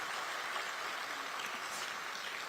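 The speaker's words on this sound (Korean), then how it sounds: "여러분 자축하는 의미로 박수 한번 보내주시죠." Faint, distant applause rises from an audience at a party leadership meeting in Suwon, Gyeonggi, a soft, even patter of many hands with no voices on top.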